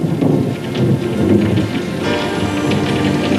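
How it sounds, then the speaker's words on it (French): Steady, dense rain pours down with a broad hiss and low rumbling underneath, continuous and loud throughout with no voices. "Il pleut."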